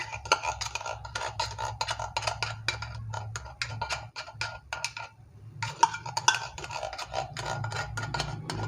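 Rhythmic stirring and scraping of a utensil against a pot while mixing ingredients with CDO Carne Norte beef-flavored corned beef, steady repeated strokes with a brief pause midway.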